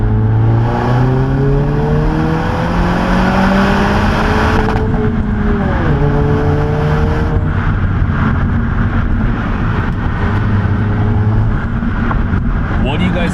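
A 2022 Honda Civic Si engine with active sound control, heard from inside the cabin as a loud steady drone with rising and falling revs, a person talking over it.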